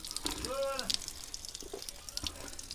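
Clean water streams from a carved stone spout in a mountain village in Uttarakhand, a soft steady splash under someone talking in Hindi, with a brief whistle-like tone near the start.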